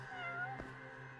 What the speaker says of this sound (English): Oh, there's a cat over here, too.